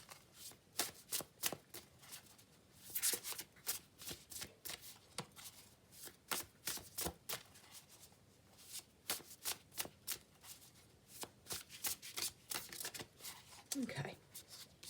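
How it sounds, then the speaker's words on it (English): An oracle card deck is shuffled in a series of quick riffling bursts spread across the whole stretch, each a crisp papery flutter, close and fairly quiet, with a slight voice sound near the end. "So let's see what the oracle has"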